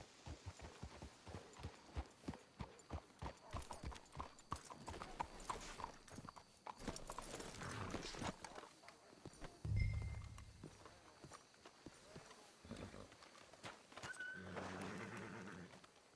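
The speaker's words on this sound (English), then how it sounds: "Let's hitch the horses up ahead." Horse hooves clip-clop at a steady walking pace in Red Dead Redemption 2, with a whinny partway through and rustling movement, fairly quiet.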